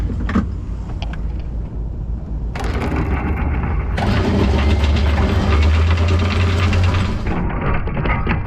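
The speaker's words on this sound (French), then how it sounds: "t'allumes le moteur" A boat's engine is started in the rain and settles into a steady, low idle, its rumble rising in stages after a quieter start and continuing under light background noise.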